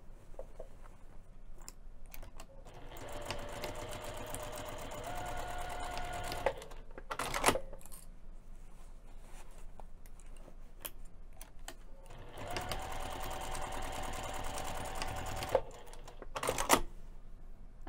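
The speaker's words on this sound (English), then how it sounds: "Now we're going to sew that lining," A sewing machine stitches the lining of a fabric dumpling pouch in long, steady runs of rapid mechanical clatter, with brief pauses and a few sharper knocks between runs, close and alone.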